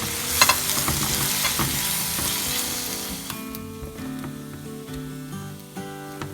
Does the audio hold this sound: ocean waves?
no